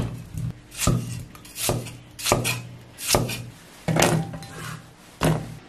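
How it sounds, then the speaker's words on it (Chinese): Peeled potatoes cut into chunks with a kitchen knife on a wooden board: seven or eight crisp, evenly spaced chops landing on the board, close and clear with no voices. "去皮后的土豆切成滚刀块"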